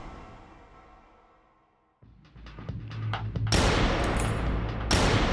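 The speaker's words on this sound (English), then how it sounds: "He's shooting in this direction." Gunfire in the video game Kathy Rain 2, a sudden burst of loud shots and blasts building after a quiet moment, with heavy booming impacts and dense noise toward the end.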